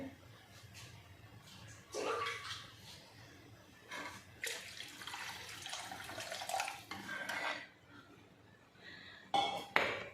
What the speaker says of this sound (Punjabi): ਪਾਣੀ ਸਾਨੂੰ ਥੋੜਾ ਜਿਹਾ ਵੱਧ ਹੀ ਪਾਉਣਾ ਪਊਗਾ